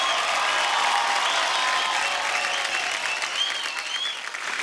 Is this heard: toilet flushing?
no